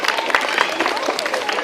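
Schoolchildren at a primary-school quiz show clap briefly in a noisy, crowded room, the claps mixed with children's voices.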